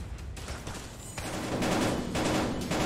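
Rapid video game gunfire rattles in sustained bursts, a dense stream of shots that grows louder and more continuous toward the end, with no talk over it.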